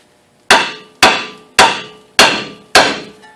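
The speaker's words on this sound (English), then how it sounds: "try to open this up with a chisel" Five loud, ringing metallic strikes of a hammer on a chisel driven into a ball joint on a 2002-2008 Trailblazer-type SUV, evenly spaced about half a second apart, each decaying quickly, up close with no talking.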